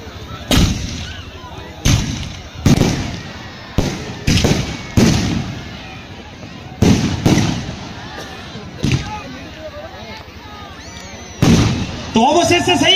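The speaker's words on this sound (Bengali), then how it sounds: "অবশেষে সেই আতশবাজি আমরা দেখ" Fireworks go off at the opening of a final-round football tournament in Krishnarampur, Budbud: a string of sharp, loud bangs and bursts at irregular intervals, some in quick pairs, over a constant crowd murmur.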